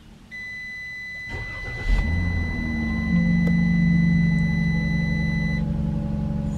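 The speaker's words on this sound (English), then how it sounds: "see if we could catch the surge current when we start the engine" A car engine cranks and catches with a brief burst, then settles into a steady idle hum that continues to the end; a faint high electronic tone runs through the first part.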